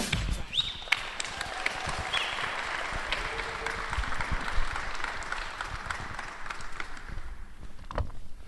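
Packed high school crowd gathered behind a Columbus East football interview, cheering and applauding steadily in a broad, sustained roar that holds for several seconds without spoken words.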